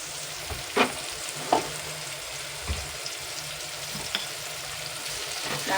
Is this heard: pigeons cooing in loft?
no